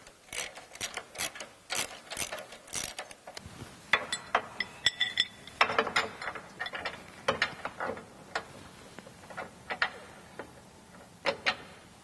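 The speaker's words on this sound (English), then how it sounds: "You will remove it using an 18mm socket" An 18mm socket on a ratchet loosens a bolt beneath a Jeep JL 3.6L four-door during a bellypan skid plate install. Quick bursts of metallic ratcheting clicks repeat close up, with short pauses and small clinks between strokes, no speech.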